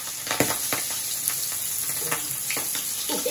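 Boal fish fries in hot oil with a close, steady crackling sizzle and scattered pops, apparently with stirring.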